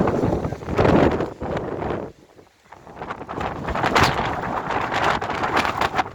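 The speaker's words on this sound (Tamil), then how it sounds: "காற்று மட்டும் இன்னும் நிற்காமல் போயிட்டுருக்குது. பாருங்கள் எப்படி அடிக்குது பாருங்கள்." Strong cyclone winds from Cyclone Nivar roar and gust against the microphone, surging loudly, dropping briefly to a lull, then buffeting hard again with no talk.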